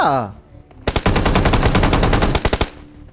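In the mobile battle-royale game BGMI, an automatic weapon fires a loud, rapid burst lasting nearly two seconds and ending in a few spaced shots, after a brief voice at the start.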